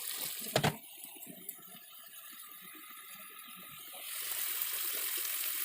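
Water poured into a pan of fried mustard-poppy spice masala for a hilsa curry, a sharp clatter and then a steady rushing pour that grows louder toward the end.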